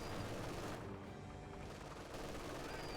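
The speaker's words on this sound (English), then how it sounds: "Auto cannon." An autocannon firing in a video game, a quiet, dense run of rapid shots that continues across the short stretch with a slight dip in the middle, faint and distant, with no voices.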